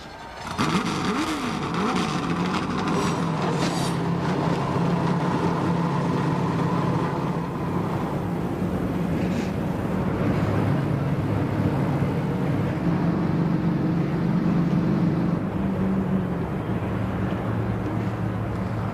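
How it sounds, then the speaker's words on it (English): A field of NASCAR Winston Cup race cars at the 2000 Bud Shootout fire up and rev together, a loud sustained engine roar with rising and falling revs that builds and holds throughout. "Gentlemen, start your engines."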